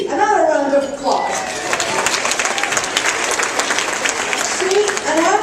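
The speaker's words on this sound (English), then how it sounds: "Another round of applause." Luncheon audience at a keynote breaks into loud, steady applause lasting several seconds, with a voice speaking over the start and again near the end.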